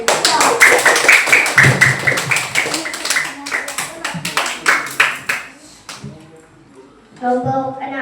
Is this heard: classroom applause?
yes